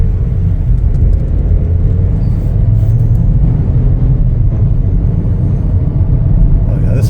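A 2024 Chevrolet Equinox LT pulls away on the road, a loud, steady low rumble of engine and tire noise filling the cabin without a break.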